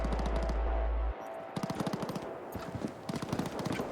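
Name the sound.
gunfire in CyberBug 2077 video game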